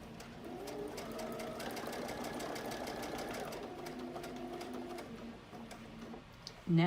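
A sewing machine runs steadily, stitching a face mask seam and backtacking, in a close, continuous mechanical whir for about six seconds before it stops with a brief clunk at the end.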